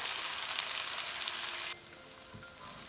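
Onion and ginger garlic paste fry in a pan for a vegetable jalfrezi, a loud close steady sizzle that drops suddenly to a quieter crackle partway through, with no voices.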